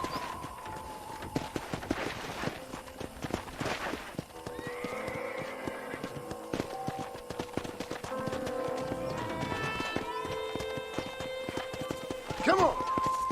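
Horse hooves clip-clop steadily across a ranch in the video game Red Dead Redemption, with a neigh or whinny and a voice speaking over the ride.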